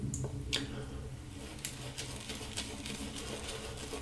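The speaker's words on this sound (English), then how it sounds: "let's lather up for pass number three" A shaving brush works shaving soap into a lather, giving quiet, close, wet squishing and patting sounds with a few soft knocks, faint and without talk.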